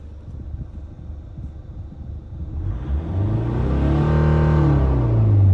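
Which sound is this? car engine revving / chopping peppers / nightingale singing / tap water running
car engine revving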